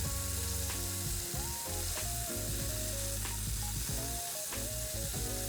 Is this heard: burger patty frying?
yes